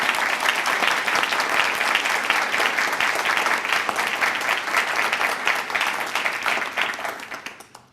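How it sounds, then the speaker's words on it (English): An audience at an awards event honoring excellence applauds in a full, sustained burst of clapping that carries evenly before fading away at the end. "So how about one more round of applause for everybody that's been recognized thus far?"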